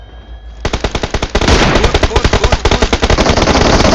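Rapid automatic gunfire in the PUBG Mobile game, loud sustained bursts of closely spaced shots, with a brief spoken word near the start.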